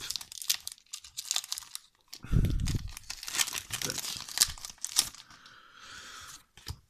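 Adhesive tape is pulled off and torn at a table during a card-game prerelease, with sharp crinkly rips and crackles in several bursts, some louder and drawn out, separated by short pauses.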